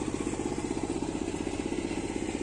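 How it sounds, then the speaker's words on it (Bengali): A small engine-driven water pump runs steadily while draining a muddy village pond, a close, even, chugging mechanical drone with rapid regular pulsing and no voices. "চায়না মেশিন দিয়ে জল ফেলা হচ্ছে"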